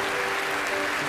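Congregation applauding in a church service, a steady dense wash of clapping over a faint sustained organ or keyboard tone, held at even loudness for about a second.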